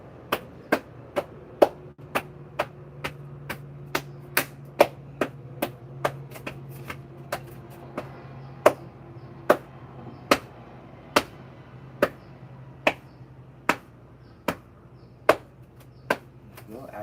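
Hands slap the bottoms of the feet during qigong, giving a series of sharp, close smacks at a steady, fairly quick pace, about twenty in a row, over a low background hum.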